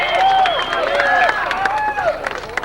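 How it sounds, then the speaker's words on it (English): An audience at a 1992 car show and bikini contest in Brighton, Missouri cheers and claps for a contestant, with whoops and whistles over steady applause that thins toward the end. "Let's have a round of applause for her"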